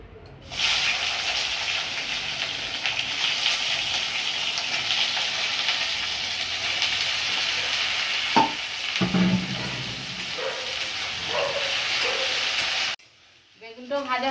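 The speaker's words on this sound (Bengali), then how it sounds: "এবার বেগুনটা ভেজে নেব।" Eggplant fries in hot oil with a strong steady sizzle, a few spatula knocks and scrapes midway, before the sound cuts off abruptly near the end.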